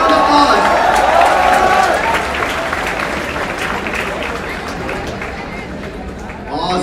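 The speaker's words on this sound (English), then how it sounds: "Big round of applause." A crowd at a tech-a-thon event claps loudly and steadily in a dense wash of applause that tapers slightly toward the end, with faint chatter mixed in.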